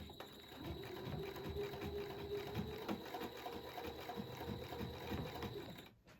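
A sewing machine stitches straight lines across a quilt, running as a continuous rapid mechanical chatter, close and steady for several seconds before stopping abruptly at the end.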